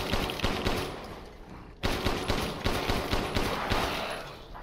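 Rapid bursts of gunfire hit an enemy in the horror game Resident Evil Village, loud and close, with repeated sharp shots in quick rhythmic clusters and a brief pause midway before firing resumes.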